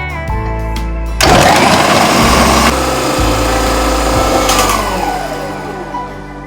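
A Preethi Sodiac mixer grinder starts with a sudden loud whir, runs steadily at high speed for a few seconds, then its pitch dips and it winds down toward the end.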